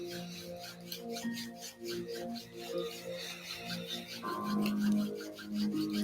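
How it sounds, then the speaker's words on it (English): Hands rub together to build warmth during a meditation, giving a close, steady rasping friction with rhythmic back-and-forth swishes under a faint hum of background tone. "Maybe put your hands together and give them a rub."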